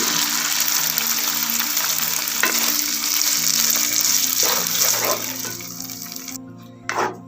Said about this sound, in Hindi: मशरूम सॉस लेंगे, ये मशरूम सॉस डाल देंगे इसमें